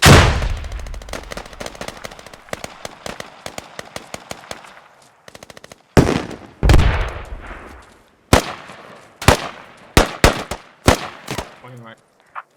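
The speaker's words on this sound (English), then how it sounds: "Grenades getting thrown out." Gunfire and grenade blasts in a tactical shooter video game: rapid automatic bursts, then a series of sharp, loud explosive bangs with short gaps between them.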